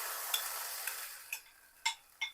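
Vegetable and egg mixture frying in about a spoonful of olive oil in a covered pan over low heat, a soft steady sizzle broken by a few sharp spatula clinks and stirring taps close by.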